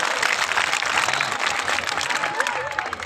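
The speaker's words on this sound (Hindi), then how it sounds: "एक बार तालियां बजाओ जोरदार" A crowd at an all-India Hindi poetry gathering during a Mahashivratri fair in Chhabra breaks into loud, brisk clapping for about three seconds, with a few voices calling out over the applause.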